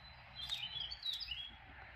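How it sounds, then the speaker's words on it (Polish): Birds singing in a garden in spring, several high chirps and short twittering phrases, faint and somewhat distant over low background rumble, with no one speaking. "Ptaki śpiewają, kwiaty kwitną, jabłonie przekwitły."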